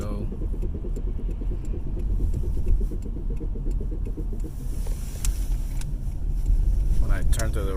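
Honda Accord engine and drivetrain noise as the gas pedal is released: a steady rumbling hum with faint rattles. A louder whirring swell comes near the end, and there is no talking.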